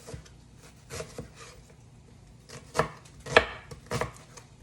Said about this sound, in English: So I'm just gonna be dicing the onion into smaller pieces.